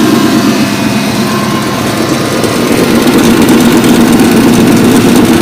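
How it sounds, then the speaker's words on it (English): A 1986 Ford Mustang GT idles loudly up close with its noisy power steering pump, a steady rough mechanical drone with a faint whine and no talking. "Our steering pump makes a little bit of noise."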